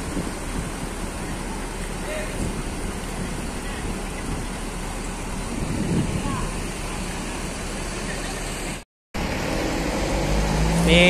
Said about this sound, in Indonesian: Ini diberangkatkan unit bus NPM tujuan Padang.